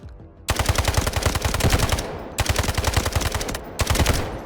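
Assault rifle gunfire in the video game Delta Force rattles out in three loud, rapid automatic bursts separated by brief pauses, close and punchy with no voices.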